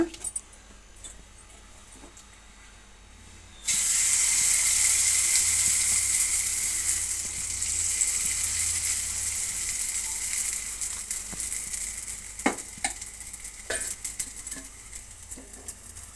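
Bun dosa batter frying in oil on a hot pan, a loud, close, steady sizzle that starts suddenly and then slowly settles, with a few sharp clicks of utensils near the end.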